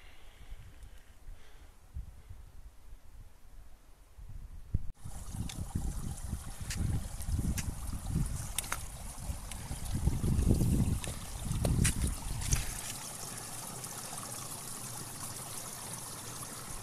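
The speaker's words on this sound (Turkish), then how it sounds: "buranın altından geçen su kütlesinin dere bildiğin akıyor ve su sesi şu an koca bir şelale akıyormuş gibi ses geliyor" Meltwater stream rushing beneath an ice mass high on Kaçkar mountain, a steady broadband water roar that swells in after a quiet start and continues loud and close, with brief surges, no talking.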